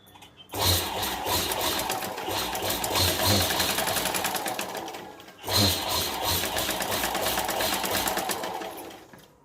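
Sewing machine stitching a zip chain onto a small homemade purse, two long steady runs of rapid needle chatter broken by a brief pause, close and fairly loud.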